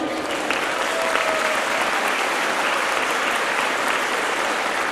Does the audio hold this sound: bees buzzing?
no